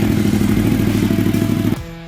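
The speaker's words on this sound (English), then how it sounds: "Suzuki TL1000R, the V-twin sport bike." A Suzuki TL1000R V-twin sport bike throbs loudly and close at a steady lumpy idle, then the engine note drops away abruptly near the end.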